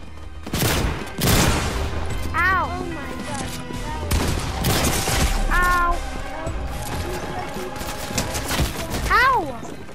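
Gunfire in a solo battle royale video game: bursts of shots and sharp impacts pop repeatedly. Whooshing game effects and a few rising tones mix in, with a voice talking briefly over the action.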